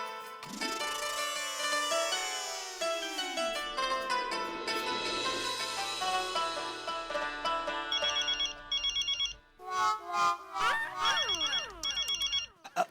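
Mobile phone ringtone playing a loud, bright electronic melody of sweeping tones, then repeated chirping bursts that stop and start near the end, close and alone.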